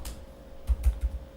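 A few soft keystrokes on a computer keyboard while Verilog code is entered, three or four close clicks in quick succession after a short quiet stretch, with no voices.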